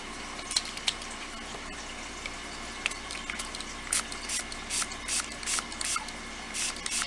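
Several short, sharp bursts from a spray bottle squirting water onto polymer clay paste, spaced unevenly and growing more frequent toward the end, close and moderately loud over a quiet background.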